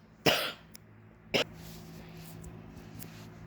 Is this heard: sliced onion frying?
no